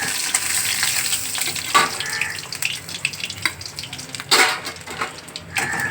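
Cardamom and cinnamon hit hot oil with a crackling sizzle broken by sharp pops and bursts, while a spoon scrapes and clatters against the pan nearby.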